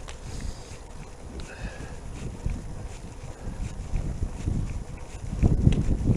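Wind buffeting the microphone during an ebike ride on quiet roads in the Lincolnshire Wolds, a low rumbling roar that swells and gusts, growing stronger toward the end.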